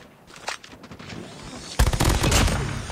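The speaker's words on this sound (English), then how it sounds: "Nice little long range shot there." The Switchblade X9 fires in Call of Duty: Mobile: a few scattered shots, then a loud dense burst of rapid gunfire that carries on to the end.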